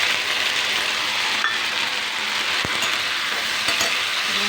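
Soybean chilli frying in a pan with cornflour, Schezwan sauce, tomato ketchup and soy sauce, a loud continuous sizzle with a few clinks and scrapes as it is stirred briskly.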